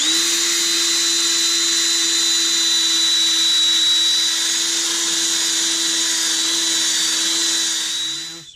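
A lathe spins a thin-walled laburnum natural-edge bowl while it is sanded with 240-grit paper. A steady, loud, close whine with a bright hiss runs continuously, then winds down at the end.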